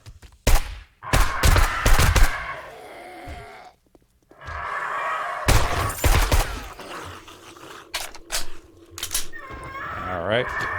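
Gunfire in the video game 7 Days to Die during a zombie horde night: bursts of shots and impacts come in uneven clusters, loud and close, with a voice talking between them.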